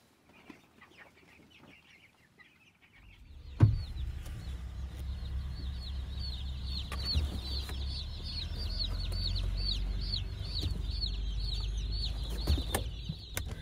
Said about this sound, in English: check out the new batch of Cornish cross